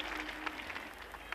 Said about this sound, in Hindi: एक बार सब एक साथ ताली बजा दीजिए